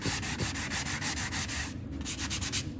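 Sandpaper rubs over Benjamin Moore sanding primer in quick rhythmic back-and-forth strokes, close and steady, with a short pause before a few final passes.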